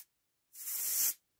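Compressed air blasts onto a lawn mower part during an overhaul, a single loud hissing burst lasting about half a second, close to the mic, with silence on either side.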